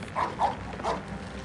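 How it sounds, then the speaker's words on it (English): A dog gives three short, strained whimpering cries in quick succession, close and fairly soft over a low murmur of background noise. "That sounded like a dog."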